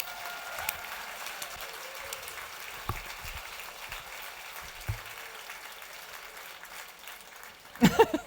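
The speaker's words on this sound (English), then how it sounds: "what about a round of applause for all of our finalists in all 59 categories?" Applause from an awards-ceremony audience honouring finalists, a steady, even patter of many hands clapping throughout, with a few louder claps and knocks near the end.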